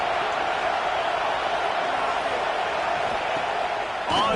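Steady roar of a college football stadium crowd during a game, a dense continuous wash of many voices at an even level throughout, with a brief louder swell near the end.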